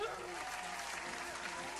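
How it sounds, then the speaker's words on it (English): Studio audience on a morning call-in radio show breaks into steady, dense applause, continuous and fairly even throughout, with no voices rising above it. "Clap that up."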